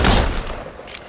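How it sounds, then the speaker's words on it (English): A short, loud burst of video game gunfire opens with a sharp blast and fades into a ringing tail, with one or two fainter shots following close behind. "I start shooting."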